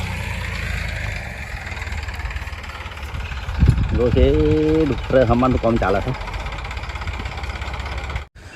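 A tractor engine idles and chugs steadily through a field where deep furrows are being ploughed for groundnut sowing, someone speaking loudly over the steady motor noise nearby.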